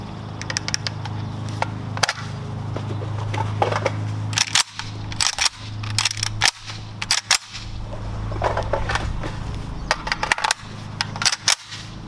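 An AK rifle being reloaded and handled, with sharp metallic clicks and clacks from the magazine and bolt, repeated in bursts over a steady background hum.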